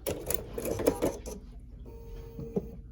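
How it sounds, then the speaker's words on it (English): A Bernina 770QE sewing machine runs briefly with fast mechanical stitching, then its automatic thread cutter gives a short whir and click, all fairly quiet and close. "I'm gonna reach up and I'm gonna hit my thread cutter"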